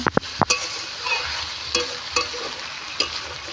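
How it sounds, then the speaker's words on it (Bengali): Chicken kofta sizzles in a hot karai while a spatula scrapes and stirs around the pan in repeated sharp strokes, loud and close with no talking. "কড়ার চারপাশ দিয়ে ভালো করে নেড়ে দেবো যাতে পুড়ে না যায়।"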